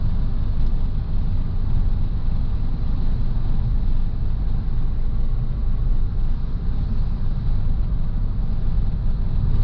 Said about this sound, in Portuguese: Esse carro tá vibrando mais do que o normal, viu, galera?